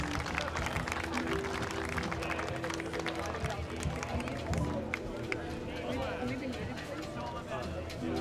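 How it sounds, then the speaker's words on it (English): A crowd claps to welcome the lord and lady at the Abbeystowe Challenger Clash buhurt international tournament, producing steady, dense clapping mixed with crowd noise and background babble for the whole stretch. "Please bid warm welcome to the Lord and Lady of Abbeystowe, which means clap your hands."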